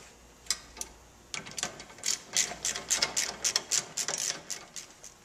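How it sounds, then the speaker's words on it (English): Rapid ratchet clicks in short, quick bursts as a hand ratchet tightens the brake caliper brackets on a 2005 Chevy Avalanche during a brake job, close and fairly loud, with no talking. "So I got the ratchet. Tightening back the caliper brackets."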